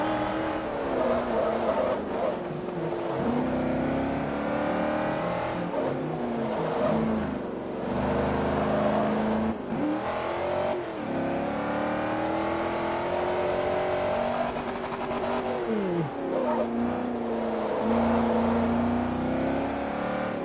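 A race car engine in Forza Motorsport 3 revs and accelerates repeatedly through rising gear sweeps, loud and continuous, with soft speech faintly beneath.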